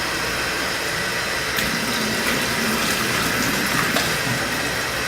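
Steady gushing water pouring into a fish tank during maintenance, a continuous loud rushing flow with faint splashes, no voices.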